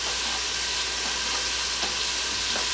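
Bacon pieces frying in an Instant Pot give off a steady, dense sizzle with soft crackles, close and continuous throughout, with no voices over it.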